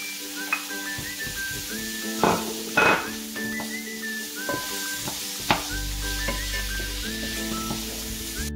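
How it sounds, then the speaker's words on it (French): Green and red peppers cooking in a pan, with a steady sizzle broken by a few louder bursts and scrapes, plus an intermittent tonal hum in the background. "Là d'abord je vais laisser cuire mes poivrons"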